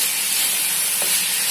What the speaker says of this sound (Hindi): अब मैं इसमें चिकन का कीमा ऐड करूंगी और इसको भी हाई फ्लेम पे हम लोग भून कर देंगे।